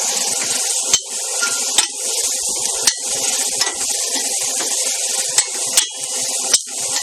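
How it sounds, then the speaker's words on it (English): Portobello mushrooms and vegetables sizzle steadily in a hot pan while being stir-fried, a constant crackling hiss punctuated by occasional clicks and scrapes of stirring. "stir it around as you would a stir fry"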